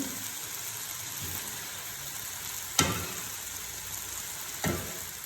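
Chicken and vegetable chowmein with soya sauce stir-fries in a pan, a steady close sizzle with two sharp scraping clacks of the utensil against the pan partway through.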